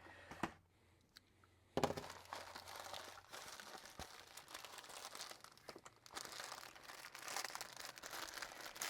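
A cardboard box is cut open by hand, with close, quiet crinkling, tearing and scraping of packaging. A sharp rip comes early, followed by continuous rustling and crunching.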